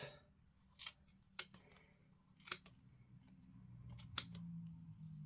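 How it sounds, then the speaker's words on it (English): Several sharp scissor snips through yarn on a pom-pom maker, in two quick pairs and a single, close and crisp over a faint low hum. "we take our scissors, snip, snip"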